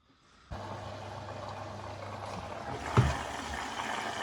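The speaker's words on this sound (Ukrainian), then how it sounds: "Так, от ставимо машинку, вмикаємо старт. Вона зараз нас буде набирати." A washing machine beginning to fill with water during a rinse-and-spin cycle: a sudden steady rushing hiss of inflowing water starts after a brief quiet moment and continues evenly, with a small clunk partway through.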